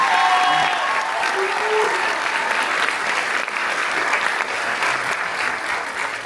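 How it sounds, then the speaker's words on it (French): An audience applauds a comedian at a French improv theatre show, a full, sustained burst of clapping from a crowd that holds steady and tapers slightly toward the end. "On va l'applaudir."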